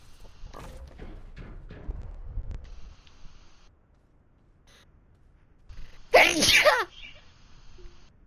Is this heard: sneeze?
yes